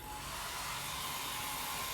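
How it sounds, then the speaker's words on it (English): A hair dryer on a cool setting blows steadily on the zipper of a dry suit, a constant loud whooshing hum with no voices. "So what I would advise you to do is to use the dryer"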